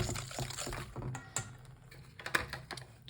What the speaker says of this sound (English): Going to add in my sugars, brown sugar and white sugar. Give that a good whisk.